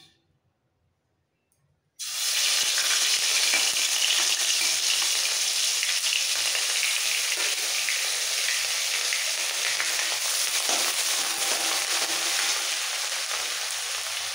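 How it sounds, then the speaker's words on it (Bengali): Ground onion paste hits hot spiced oil in a home kitchen pan and erupts into a loud, steady sizzle that holds unbroken, with no talk over it. "এবার পেঁয়াজটা খুব ভালো করে ভাজতে হবে, একটু লাল করে ভেজে নেব।"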